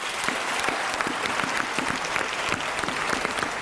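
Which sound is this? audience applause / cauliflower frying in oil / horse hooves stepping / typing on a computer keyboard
audience applause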